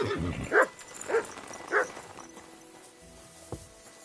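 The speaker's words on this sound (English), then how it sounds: "Good dog, Mats." In a video game, a dog lets out three short, sharp barks or yips spaced about half a second apart, fairly close but not loud, followed by a quieter stretch with faint background sounds.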